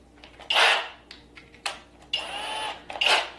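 A power drill bores a hole in a plastic jug in several short bursts, each a whining, grinding spurt of a fraction of a second to half a second, close and fairly loud, with pauses between.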